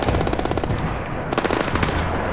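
Rapid automatic rifle fire in the Splinter Cell Blacklist video game, a steady loud stream of close shots across the whole stretch with a slight pause midway, no talk over it.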